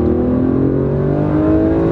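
A 6-litre V12 in an Aston Martin Vanquish growls steadily for two seconds, its deep rough engine tone rising slightly as revs climb, close and loud with no talk over it.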